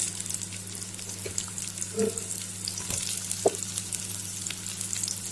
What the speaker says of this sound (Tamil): தக்காளி இது எல்லாத்தையும் நல்லா வதக்கிக்கலாம்